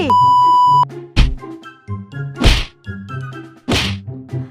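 Cartoon slap effects in the Sakura School Simulator game: three sharp, loud whacks land about a second apart over bouncy electronic beeping music.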